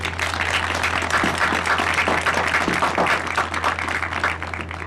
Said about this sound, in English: Join me in a round of applause for Dr. Espy.